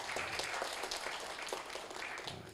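Audience applause at a lecture, a dense, steady patter of many hands clapping throughout, fairly close and even in loudness.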